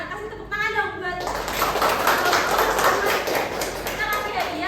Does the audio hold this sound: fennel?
no